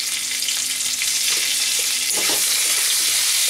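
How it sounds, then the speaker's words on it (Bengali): Potatoes fry in hot oil seasoned with salt and turmeric, giving a loud, steady, close sizzle with a few soft stirring scrapes partway through. "এবার আমি আলুটা ভেজে নেব"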